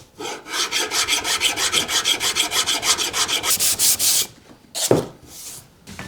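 A semi-hollow Jazzmaster guitar body being sanded with 400 grit sandpaper, heard as a steady run of fast, close back-and-forth rasping strokes. The strokes stop and are followed by a few knocks and handling sounds.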